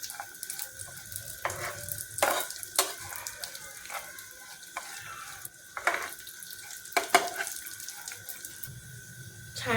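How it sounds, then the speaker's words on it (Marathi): Vermicelli is sautéed in a pan over a medium flame, giving a soft sizzle broken by scraping and stirring clicks of a utensil against the pan, fairly quiet and close, with no talking. "हे 2 ते 3 मिनिट परतून घ्यायचे आहेत। मीडियम फ्लेमवरती छान सोनेरी होईपर्यंत हे"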